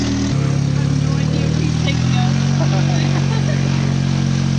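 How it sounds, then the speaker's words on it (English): A Honda K24A2 engine runs with a steady droning hum that shifts pitch slightly, loud and close, holding its rhythm without pause. "That's a K24A2 Honda engine."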